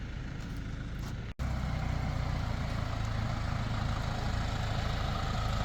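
A tractor's engine runs steadily close by with a low, heavy rumble, broken by a brief cut early on before the drone resumes unchanged, with no talk over it.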